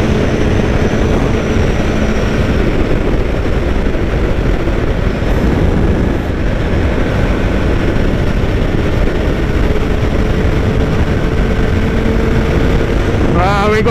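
A Kawasaki Z900 motorcycle being ridden, its engine a loud, sustained roar mixed with heavy wind rush, steady throughout with a brief pitch change at the very end.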